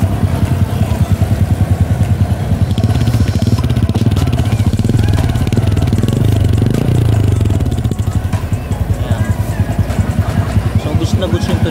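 A motorcycle engine with a deep, full exhaust note revs steadily and loudly close by, a continuous rumbling throb running the whole time with no break.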